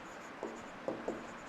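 Marker or chalk writes on a board during a civil engineering lecture, with a few short faint strokes and scratches against a quiet background.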